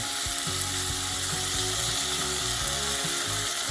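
Rinsed canned cannellini beans hit a hot pan and fry with a steady, close sizzle, broken by scraping, clattering stirs, with no talk.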